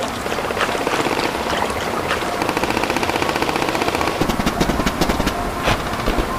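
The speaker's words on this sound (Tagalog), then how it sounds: "Sunod-sunod ang putok mula sa taas. Literal na hail of bullets." Machine gun fire as a sound effect, rendered as loud, rapid, continuous bursts of shots that intensify and grow more distinct toward the end, with a rushing noise beneath and no voices.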